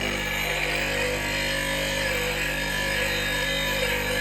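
An 80 grit bench grinder wheel sharpening a woodturning bowl gouge gives a constant, even high whir with a low motor hum, steady and close throughout with no talk.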